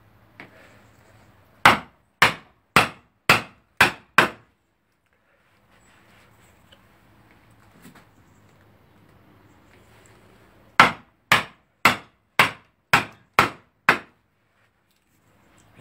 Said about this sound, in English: when you've knocked your chisel in, to lever it.